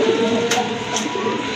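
Pigeons cooing at a pigeon sale, with a low steady murmur of coos running through the whole short stretch alongside faint background noise and a couple of brief higher rustles.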